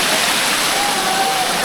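A waterfall at Araku rushes in a dense, loud, continuous roar of falling water that fills the whole short stretch.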